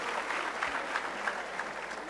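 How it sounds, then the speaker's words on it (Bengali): Audience clapping at a business convention, a steady broad wash of applause that holds at an even level throughout with no pauses and no voices rising above it. "সম্মানিত লিডার মিস্টার কাউসার ভুঁইয়ার জন্য জোরে করতালি হবে"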